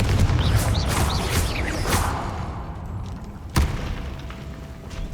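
Confringo fire spell explosion in Hogwarts Legacy, a booming blast that opens loud and rumbling, decays over several seconds, then a second sharp thump hits near the end.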